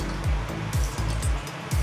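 Water spraying in short bursts from a squeezed tube in a restaurant restroom in Costa Rica, a close, loud hiss over a steady rushing background with several rhythmic pulses.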